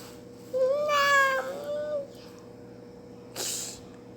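A cat gives a single drawn-out, rising-and-falling meow, fairly close and clear, followed by a short breathy burst after a pause, over a quiet room background.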